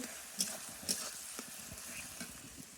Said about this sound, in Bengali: তেল গরম হয়ে গেছে পেঁয়াজ দিয়ে দিয়েছি তেলের মধ্যে